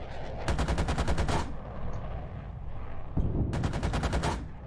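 Tank gunfire in the PC combat game Gunner HEAT PC comes as two loud bursts of rapid automatic fire separated by a short pause, with a dense rumbling backdrop throughout.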